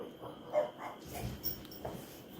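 A dog gives a few faint, short barks and whimpers nearby as a neighbor arrives home during indoor basket weaving, heard in soft separate bursts over a quiet room.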